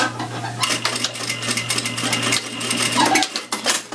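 A sewing machine stitches a tack across a fabric pleat, giving a close, busy rattle of rapid needle strokes over a steady motor hum that cuts out partway through, with clicks and small metallic taps.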